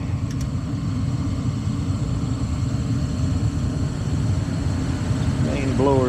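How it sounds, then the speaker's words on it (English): The main blower of a Trane furnace runs as a steady low rumbling drone with a faint high hum above it, constant and moderately loud, with a brief squeaky sound near the end. "Main blower's on."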